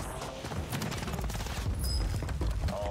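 Rapid bursts of gunfire from the video game Warzone 3 crackle in dense, overlapping volleys with mechanical clicks and a few high tones, fairly close and continuous.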